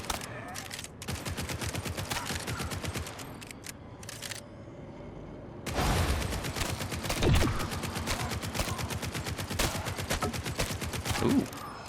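Rapid SMG fire in the bullet-heaven video game Grind Survivors, dense continuous bursts of gunshots with one brief pause, loud and close throughout.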